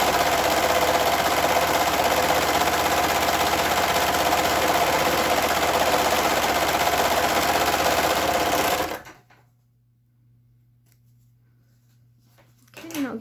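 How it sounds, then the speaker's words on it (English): A four-thread serger overlock machine stitches fabric for a reusable grocery bag, a loud steady whirring hum running continuously for about nine seconds, then cutting off to near silence with a faint stir at the end. "So the serger does this nice stitch right here, and it is just an overlock stitch that's 4 strands right around there"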